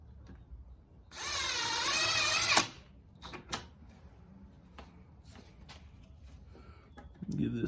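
A power drill whirs in one steady burst of about a second and a half while driving a screw into a wooden drill storage rack, followed by a few scattered clicks and handling knocks.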